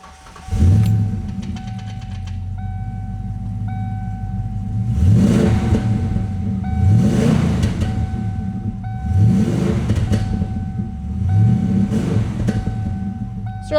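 A 1993 Ford Mustang Cobra with 56K miles idles, then its engine is revved four times in steady succession, each rev rising sharply and falling back to a loud, close idle with no talk.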